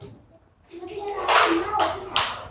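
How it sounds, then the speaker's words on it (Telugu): Children in a first-grade maths classroom break into quick, scattered clapping after a short quiet spell, the claps close and uneven, mixed with a voice. "Very good. క్లాప్స్ కొట్టండి."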